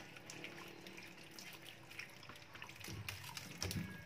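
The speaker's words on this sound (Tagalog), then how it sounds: "Dapat hugasan talaga ng mabuti." Banana leaves are rinsed under a running kitchen tap, a steady stream of water splashing in a sink with a few louder gushes near the end.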